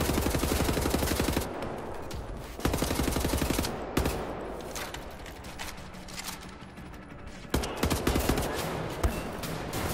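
Gunfire in the shooter Wolfenstein The New Order, dense bursts of rapid automatic shots with brief pauses between volleys, loud and close, alone without talk.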